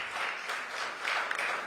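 An audience at a youth conclave gives a short burst of dense, even applause to welcome three guests onto the stage.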